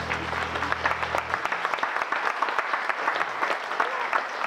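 A live studio concert audience applauds the singer and bassist with dense, steady clapping that carries on throughout, briefly overlapping a held low instrumental tone at the start.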